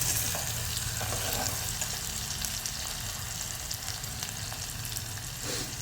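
Food fries steadily in a pan until golden brown during preparation of a spicy Gujarati vaghali dish, making a constant close sizzle and crackle with faint stirring and no voices.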